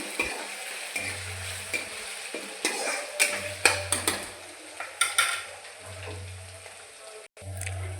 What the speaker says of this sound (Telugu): అల్లం వెల్లుల్లి పేస్ట్ పచ్చివాసన అంతా పోయే వరకు వేపుకోవాలండి